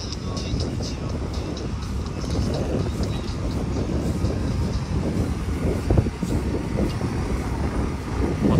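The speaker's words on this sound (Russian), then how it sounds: "Так, вот тут работают трактора." Tractors filling and levelling sand on a beach at Imeretinka near Adler, Sochi, their engines a continuous low rumble and grind from nearby with occasional clanks, heard alone without talk.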